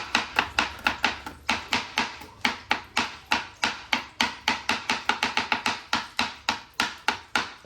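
A knife chops small vegetables on a board in a quick, steady run of crisp, close taps, about four per second, with nothing else heard.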